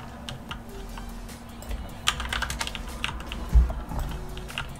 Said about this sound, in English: That's why I was like typing a lot there.